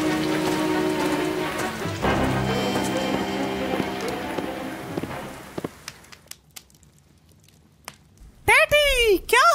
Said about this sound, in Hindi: बाहर तेज बारिश हो रही है और तूफान भी आ गया